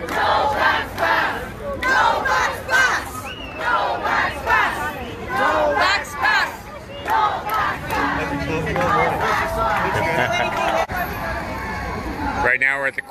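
Protest crowd of nurses on a Toronto street corner chanting a short slogan in a loud repeating rhythm, many voices together close by, with someone talking nearby near the end.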